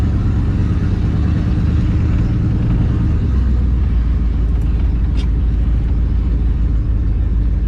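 A van with no air conditioning driving along, its engine giving a steady, loud low rumble with constant road noise throughout, the pitch dropping slightly partway through.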